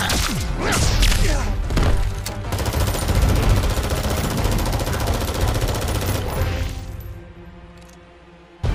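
Gunfire rattles in Mortal Kombat X, a loud sustained burst of rapid shots and heavy thuds over several seconds before cutting off, with a brief impact at the end.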